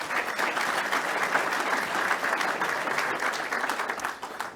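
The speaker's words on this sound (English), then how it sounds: "Give him a round of applause." A large audience at a political speaking event applauds steadily and loudly, a dense wash of clapping that holds for several seconds before starting to thin at the end.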